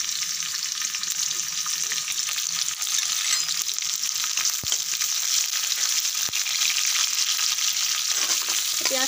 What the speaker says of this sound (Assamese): এয়া তেলতে মই গৰম হওঁতে গোটা জিৰা দিলো আৰু এটা পিয়াজ দিম।